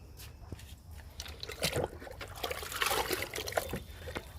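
Aloe vera liquid is poured onto a potted plant, making a soft trickling, splashing pour that builds in the middle and then tapers off, heard close and fairly faint.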